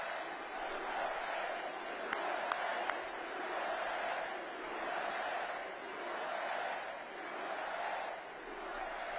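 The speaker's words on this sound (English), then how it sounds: "this crowd is going nuts" A large crowd at a Trump rally in Madison Square Garden, New York, roars and cheers in rolling waves that swell and fade, with a voice talking over the din.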